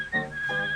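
Whistled tune from the Steamboat Willie cartoon in the Disney logo, a brief pure whistle sliding between two notes, clear and unaccompanied.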